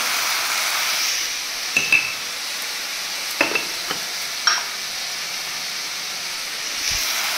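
Chicken curry with fresh green chillies sizzling loudly and steadily in a pan, with a few sharp clinks and scrapes of a spoon stirring it, close and constant.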